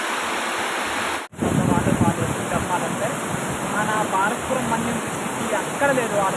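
Lodda waterfall plunging from a high mountain, heard as a loud, steady broadband roar of rushing water that continues with only a brief dropout, with wind noise and a voice talking over it.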